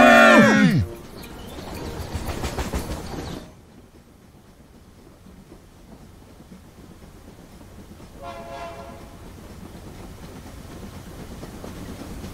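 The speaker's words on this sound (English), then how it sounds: "Another train is passing by." Cartoon train from a children's app animation rumbling past loudly for a few seconds, with an opening animal-like moo-style whistle tone, then fading to a quiet hum with a faint tonal call near the end.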